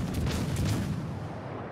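A booming burst of gunfire in a ranked solo match of a shooter video game fills the moment with a heavy, rumbling blast that slowly fades away.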